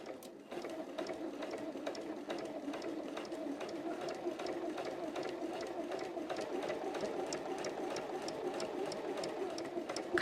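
Sewing machine running steadily in a back stitch on a simple Easter fabric project, a continuous close mechanical whir with rapid needle clatter and no pauses for the full stretch.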